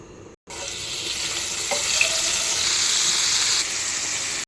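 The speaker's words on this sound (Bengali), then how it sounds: "এদিকে আমি রুটি আর ডিম ভাজির কড়াইয়েই মাছ ভেজে নেব" Fish sizzles in hot oil in a wok already used for flatbread and fried egg, a steady bright hiss that fills the kitchen at moderate volume after a brief silent gap.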